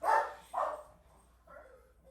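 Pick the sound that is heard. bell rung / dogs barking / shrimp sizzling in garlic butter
dogs barking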